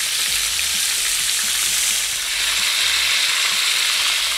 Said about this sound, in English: So the burgers, they're almost cooked.